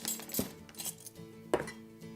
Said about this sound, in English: and then we'll just stir that up